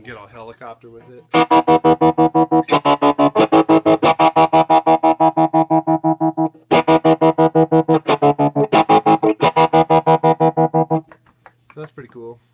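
Guitar through a deep square-wave tremolo pedal, with the signal chopped on and off in a fast, even, helicopter-like pulse across two long sustained passages separated by a brief pause.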